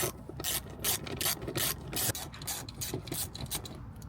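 A 5 mm hex tool tightens a bolt on a BMW E36 short shifter, steady repeated scraping and ratcheting clicks close up, rhythmic strokes continuing throughout with no talking.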